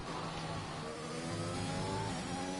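A racing car engine on a fast lap uphill in a racing video game, held at high revs as a steady, droning whine with pitch shifts as gears change, loud and continuous with no voices.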